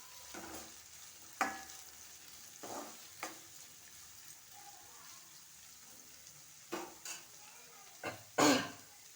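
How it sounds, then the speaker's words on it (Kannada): Onions fry in a hot pan for sabudana khichdi, a faint sizzle broken by several distinct scrapes of a spatula stirring against the pan, with what may be a cough or throat clearing. "ಈರುಳ್ಳಿಯನ್ನು ಹಾಕ್ಕೊಳ್ಳೋಣ ಈರುಳ್ಳಿ"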